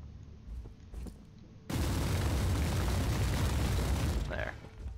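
A barrel blowing up in Warhammer 40k Inquisitor Martyr: a sudden loud blast that becomes a long roaring rumble lasting several seconds, following quieter scattered gunfire, with a voice talking faintly at the start.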